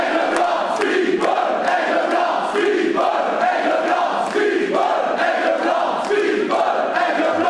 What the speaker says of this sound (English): Crowd divided between these two.